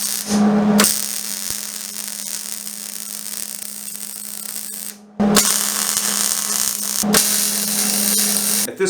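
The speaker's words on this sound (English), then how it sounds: "I'm going to turn upside down up here and weld this a little bit better." A slider is welded on a custom steel welding table. A loud, steady crackling buzz runs in two long bursts with brief pauses between them, close up and with no speech.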